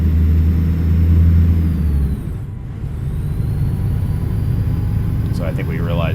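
In American Truck Simulator, a heavy-haul truck engine labors uphill in first gear with a loud, low, continuous rumble. A deeper drone drops away partway through, leaving a steady grinding growl.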